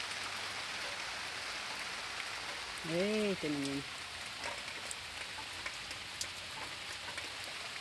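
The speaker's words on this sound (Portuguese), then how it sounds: "Chuva, chuva." Steady rain falls outdoors in a constant broadband hiss, with a woman briefly exclaiming partway through as the downpour carries on unchanged.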